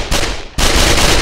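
Loud, sustained burst of M16 rifle gunfire in the video game Kick The Buddy, a dense rapid crackle with a brief dip before a second, stronger volley.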